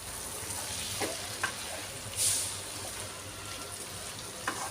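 Peeled tomatoes go into a hot pan and cook with a steady, close sizzle, broken by a few soft clicks and a brief louder burst of spattering midway.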